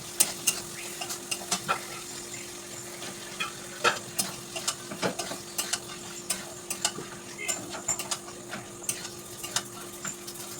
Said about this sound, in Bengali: ভালো করে মশলা কষা হয়ে গেছে, মাংসগুলো যোগ করবো।